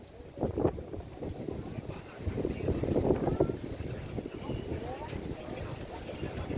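Gusty seaside wind at Tigbauan, Philippines, buffets the microphone in low, rumbling bursts outdoors, with faint voices partly buried beneath it.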